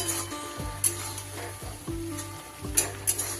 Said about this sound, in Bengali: এইবার ফ্রাই করা চিকেনটা দিয়ে দিলাম।